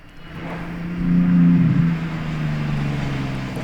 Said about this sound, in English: Take a listen, that has to be a Revuelto